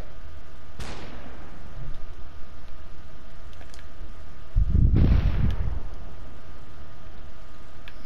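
Gunfire in a Matrix video game: a sharp shot with a falling whizz early on, then a louder booming blast with rumbling tail midway, over a steady background hiss.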